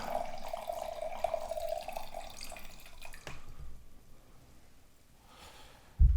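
Red wine pours through a pocket aerator spout into a glass, a steady splashing trickle for about three seconds that then fades to quiet room tone, ending with a brief thump.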